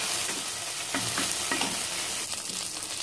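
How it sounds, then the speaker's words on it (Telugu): Onions sizzling in a pan as a spoonful of ginger garlic paste is added for an Andhra-style chicken curry, a loud continuous hiss with a spoon stirring and scraping through it, close up and with no voices. "ఇప్పుడు ఈ ఆనియన్స్లోకి లైట్గా అల్లం వెల్లుల్లి పేస్ట్ యాడ్ చేసుకుంటున్నాం."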